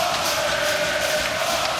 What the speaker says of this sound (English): How can he not be amped up by this crowd?